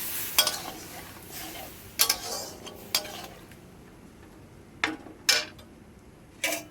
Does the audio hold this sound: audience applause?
no